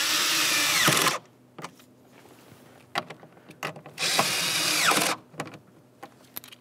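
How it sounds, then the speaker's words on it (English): A power tool tightens the blower motor module mounting bolts on a 2002-2009 Chevrolet Trailblazer, two long loud bursts of whirring drive separated by ratcheting clicks and taps, close up. "Tighten our rearward bolts here."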